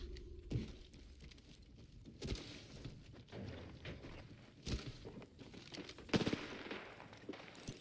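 Gunfire crackles in the Apex Legends video game as a Lifeline player fights, with scattered shots and short bursts at moderate distance and a louder sharp volley near the end, no talking over it.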